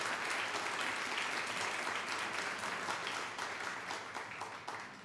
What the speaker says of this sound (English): Can we please have another round of applause for Ken?